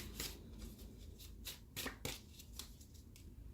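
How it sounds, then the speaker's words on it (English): A tarot card deck being shuffled by hand gives quiet, close riffling bursts and soft papery flicks, repeated in an uneven rhythm. "I feel like I'm supposed to shuffle this one too."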